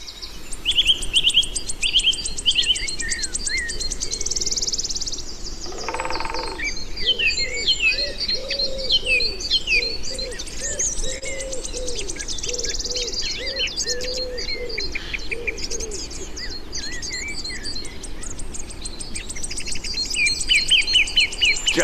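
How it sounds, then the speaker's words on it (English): Birds sing in a Welsh Atlantic oak forest, with many overlapping chirps, trills and whistles from several species and a low cooing dove, a continuous lively chorus at moderate distance with no talk. "He's made this short film for us on birds that you might find here in the Atlantic forest."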